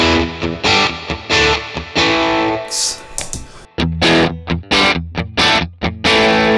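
An electric guitar runs through a Vox AC30 amp model with reverb, playing loud, close, distorted chords and rhythmic stabs with short pauses and ringing reverb tails between phrases.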